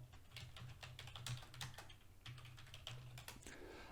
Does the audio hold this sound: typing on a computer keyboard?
yes